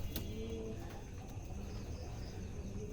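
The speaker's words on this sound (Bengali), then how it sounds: "এই যে এখানে আরেকটি কবুতর বসে আছে" Pigeons perched in a modified coop at night give soft, low cooing calls over a steady hum, with a few faint chirps mixed in and no talking.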